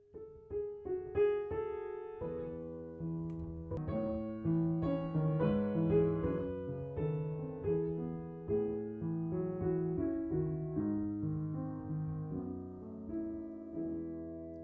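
Solo piano plays Clair de Lune with the melody brought forward over a softer left-hand accompaniment, gentle and moderately quiet, with sustained chords and a flowing line throughout.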